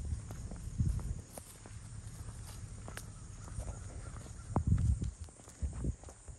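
A loose horse's hooves clip-clop on the ground nearby, in two bursts of plodding steps with quieter rustling between them, against steady outdoor background noise.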